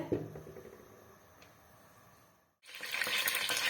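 Whole spices, cinnamon stick, green and black cardamom and cloves, fry in hot oil for chicken curry with a soft sizzle, then after a brief gap a louder, brighter burst of frying.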